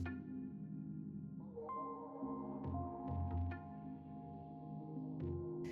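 A sewing machine runs a straight double stitch across hat fabric, giving a steady, close motor hum with a low throbbing pulse that lasts the whole stretch without a break.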